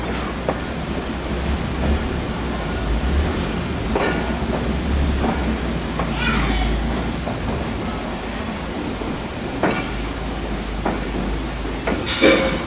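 Khyber Mail passenger train slowly gathering speed, a steady rumbling roar inside the carriage with occasional clicks and rattles of the wagons, loud and continuous throughout.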